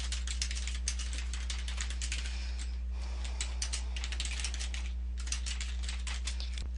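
Typing on a computer keyboard, a rapid run of light clicking keystrokes with a short pause midway, fairly quiet beneath a steady low electrical hum.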